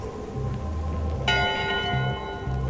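Bell strikes inside the pirate adventure game Return to Monkey Island, a single bright metallic clang with a long ringing overtone tail over low, steady game music.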